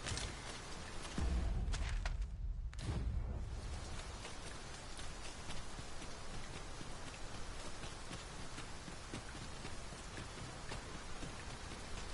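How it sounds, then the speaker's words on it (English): Steady heavy rain pours down over a campsite, a dense continuous hiss with a brief louder, deeper rumbling burst near the start before settling into an even downpour. "we might take shelter from the rain"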